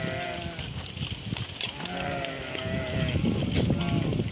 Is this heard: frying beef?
no